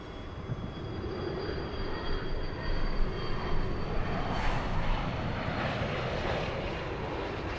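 Jet engines drone in a steady, loud roar as a Delta airliner sits lined up and waiting on Santa Monica runway 24 left, the hum swelling slightly midway.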